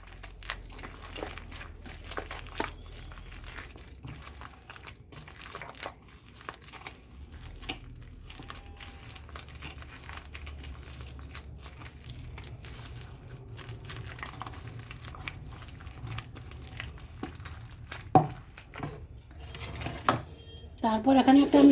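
Palmyra palm fruit pulp squished and kneaded by hand with a little of its soaking water, a long run of soft wet crinkling, slapping and squelching close by, growing louder toward the end.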